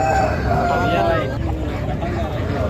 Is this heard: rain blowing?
no